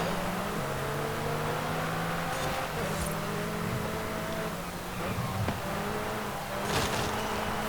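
McLaren GT sports car in Forza Horizon 5 driving at speed, a sustained engine drone with shifting pitch and tire noise, steady and close, no talking.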